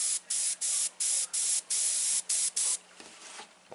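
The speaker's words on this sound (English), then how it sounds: "It's the airbrush laying the paint down." Airbrush laying down paint on a simple rose, heard as a rapid series of short, sharp, close hissing bursts in quick succession, then quieter handling noise at the end, with no talking.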